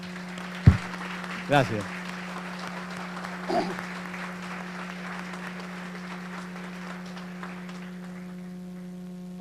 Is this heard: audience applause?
yes